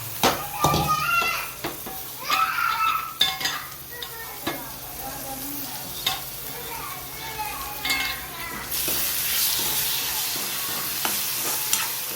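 Tomatoes tipped into a hot pan of yogurt-based gravy, sizzling steadily while a spoon scrapes and stirs in bursts, with voices speaking nearby over the frying.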